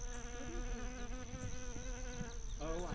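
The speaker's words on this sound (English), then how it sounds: "A bee. That's our honeybees." Honeybees buzzing in a permaculture garden, a steady close insect drone with wavering pitch that continues throughout the moment, fairly quiet outdoors.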